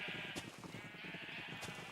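A Minecraft sheep on a farm bleats in a short, wavering, nasal cry over a steady background hum, with a brief high click near each end.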